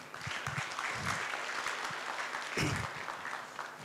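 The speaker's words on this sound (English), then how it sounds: "So I would like you to welcome both of them to the stage with an applause." Quiet applause at an early childhood education conference as speakers are welcomed to the stage, soft continuous clapping from a crowd, fairly distant and even throughout.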